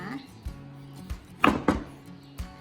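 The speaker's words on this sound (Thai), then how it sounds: "ต่อไปก็หั่นมะนาวเลยนะคะ" Knife slicing through limes on a cutting board in a home kitchen, giving several crisp, separate chops at an uneven pace, close and fairly loud, with no talking.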